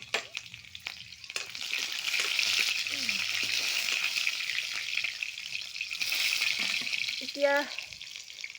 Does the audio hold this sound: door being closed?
no